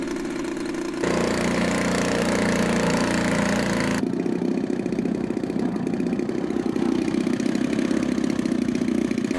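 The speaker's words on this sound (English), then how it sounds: "After one last engine run-up check." A Savage Bobber RC plane engine revs through a run-up, shifting from one steady pitch to a louder, higher drone, then settling into a rougher, pulsing tone, close and continuous with no talk.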